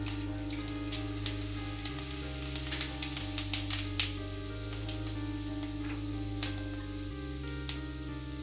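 Cumin seeds sizzling in hot oil, a constant close crackle with scattered small pops and ticks, alone over a steady humming background drone.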